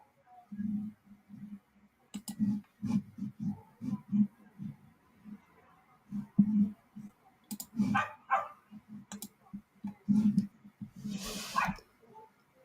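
A dog barks repeatedly in the background of a live football watchalong, short sharp barks coming in irregular bursts, fairly faint and somewhat distant.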